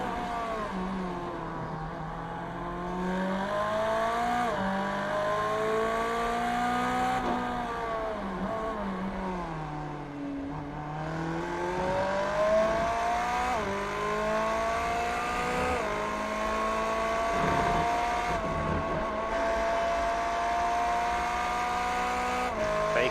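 GT3 race cars lapping Circuit of the Americas in iRacing: steady, loud engine drone with rising and falling pitch through gear changes and corners, other cars layered underneath, with no talk.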